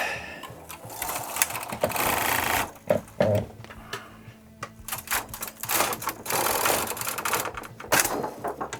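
A knitting machine working self-striping sock yarn: a rapid mechanical clatter as the carriage sweeps back and forth in repeated passes, with rattling clicks and brief quieter gaps, close and fairly loud.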